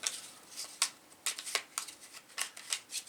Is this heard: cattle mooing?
no